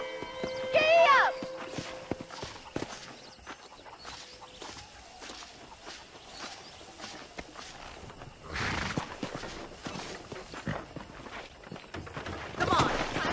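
Horse hooves clip-clop at a steady walking pace in the Red Dead Redemption video game, with a whinny near the start, soft bird calls and brief bursts of wind or rustling.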